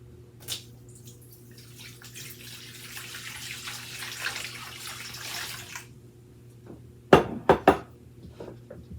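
Warm water for bread yeast pours into a container in a soft, continuous stream that stops abruptly, followed by a few sharp clinks and taps; no one speaks.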